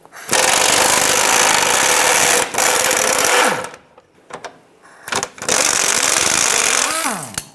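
A power tool rattles loose the control arm bolt on a 2004–2009 Toyota Prius using a 19mm socket, with loud, buzzing bursts of impact hammering broken by short pauses and a few brief mechanical clicks.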